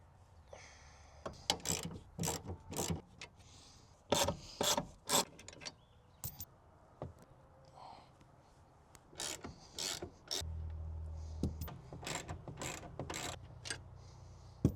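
A hand ratchet loosens bolts on a Jeep's rear seat, giving quick bursts of sharp clicking, some rapid and some slower, separated by short pauses and occasional metallic rubbing and clunks, close and fairly quiet.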